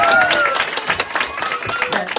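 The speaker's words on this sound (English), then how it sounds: "Give her a big clapping hand." Small group clapping for a child who has just finished a plate-spinning juggling trick, scattered claps close by with voices and an excited whistle-like cry over them.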